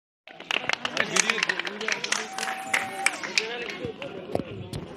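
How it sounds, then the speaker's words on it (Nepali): An audience claps together at a school annual event and parents' day, a dense, continuous patter of many hands with a faint voice carrying over it. "सबैले जोरदार ताली लगाएर सहयोग गरिदिनु हुनु"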